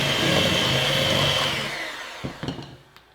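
A hand mixer creams brown and white sugar together for eggless chocolate chip cookies. It whirs steadily, then winds down and stops, followed by a few light clicks and taps.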